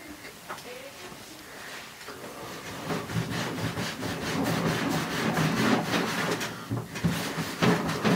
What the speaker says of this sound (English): give the whole case a nice rub down with a cloth